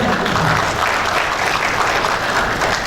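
An audience at a dental graduation and oath-taking ceremony applauds, a dense, steady wash of many hands clapping, loud and sustained throughout.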